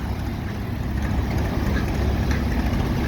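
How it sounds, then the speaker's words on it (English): A homemade machine driven by an Allis Chalmers power unit runs at a threshing show, its engine idling as a steady, rumbling low drone close by with no break. "A homemade thing with a Allis Chalmers power unit"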